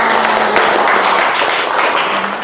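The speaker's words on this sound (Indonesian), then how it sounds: "tepuk tangan untuk kalian semuanya" A burst of steady group clapping by students in a classroom, loud and close, sustained throughout without any talking.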